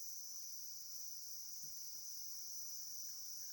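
A Dollar Tree lighted cauldron mist maker runs with a faint, steady high-pitched whine like crickets chirping, continuous and very quiet with no voices.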